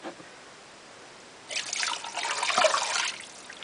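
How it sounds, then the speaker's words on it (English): Water pours and splashes into a pressure cooker after a quiet start, a steady close trickle that swells, then eases off. "I'm just going to dump in some water"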